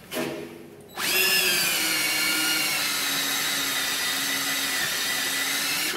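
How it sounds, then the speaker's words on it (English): A power drill running at low speed turns the pinion of a Jeep Wrangler Rubicon Dana 44 axle during a gear install, starting abruptly after a brief moment and then whirring steadily and loudly up close without any voices. "I use a drill, that same drill I was talking about, and I'll put it on low speed and I'll use that to turn the pinion."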